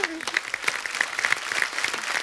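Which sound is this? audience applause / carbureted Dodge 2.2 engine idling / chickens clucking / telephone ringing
audience applause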